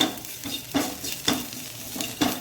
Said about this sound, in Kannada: ಸ್ವಲ್ಪ ಉಪ್ಪು ಹಾಕ್ಕೊಂಡು ಸ್ವಲ್ಪ ಫ್ರೈ ಮಾಡ್ತಾ ಇದ್ದೇನೆ.